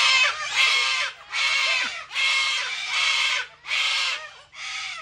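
A flock of cockatoos screeching in the wild beside a kangaroo: loud, harsh, raspy calls repeated in about six long bursts with short gaps between them, near and clear with no voices.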